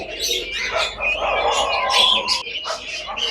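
A crowd of young layer chicken chicks chirps continuously in bright, overlapping peeps, loud and close, with no talk over it.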